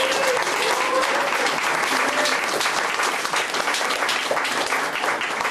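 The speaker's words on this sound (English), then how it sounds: "so I get a round of applause." Sustained round of applause from a conference audience, dense steady clapping filling the room at an even loudness throughout with no talk over it.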